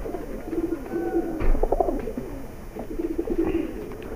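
High flyer pigeons coo repeatedly in soft, throaty bursts, close by, with a brief rustle or thump midway and steady background noise.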